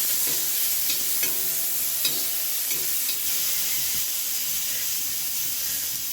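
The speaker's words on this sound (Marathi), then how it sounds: "आता एक टमाटा आहे ना ह्या तेलामध्ये जरा भाजून घेऊ गरम करून" A tomato frying in hot oil in a home kitchen pan, giving a steady close sizzle and hiss with a few faint stirring clinks, no voices.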